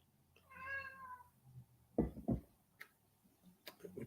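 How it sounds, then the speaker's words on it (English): A house cat named Louie gives one clear, drawn-out meow asking to be fed, followed by a few close clicks and taps in an otherwise quiet room. "my cat is telling me that he wants to eat already"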